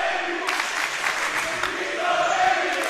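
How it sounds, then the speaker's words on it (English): A steady roar of crowd noise fills an indoor arena at a high school basketball game, with scattered claps and cheers rising and falling throughout. "you can hear the crowd."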